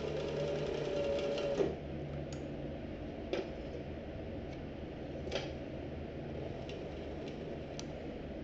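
A sewing machine stitches a Kodiak backpack bag body with a steady mechanical hum and a few light ticks.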